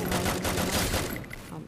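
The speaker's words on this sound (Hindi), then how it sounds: "अब इधर से एक गन निकाल के मारता हूँ" Gunfire in the mobile shooter Free Fire, Clash Squad mode: a dense burst of rapid shots for about a second, fading into quieter game sounds with a few brief tones near the end.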